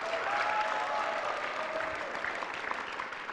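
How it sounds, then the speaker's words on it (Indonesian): A studio audience on an Indonesian presidential talent show applauds in a continuous, moderately distant wash of clapping that holds steady and thins slightly toward the end. "Tepuk tangan buat Anda semua."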